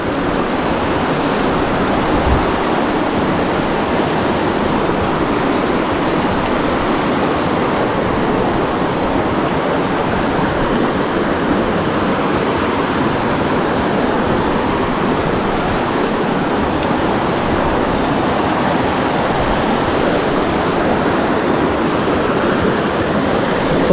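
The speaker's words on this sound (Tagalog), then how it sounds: "Kasi malakas na yung agos ng tubig dito." Strong current of the Nambalan River in Mayantoc, Tarlac rushes in a loud, unbroken roar of churning water, close and constant throughout with no talk over it.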